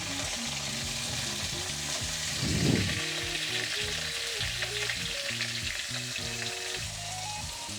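Potatoes and red amaranth stems lightly frying in oil in a pan, with a steady close sizzle and occasional stirring, a brief louder burst midway, over faint tonal background sound.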